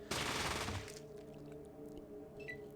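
A short, loud burst of rapid gunfire opens the scene in the video game Fallout, then fades to a quiet game ambience with faint tones and small clicks.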